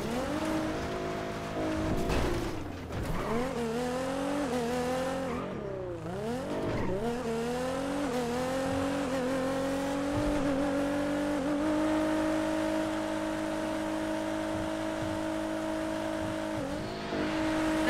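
A fast car in the GTA video game revs hard, its engine pitch sweeping up and down through gear changes, with tire squeals and a loud, continuous drone that carries on without talk.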